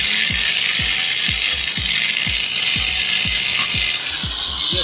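A small sanding disc works along the roof edge of a Chevrolet Monte Carlo, Impala, Lumina or Malibu body. It makes a loud, steady high-pitched grinding whir with a regular low ticking pulse underneath, close up, and no talking.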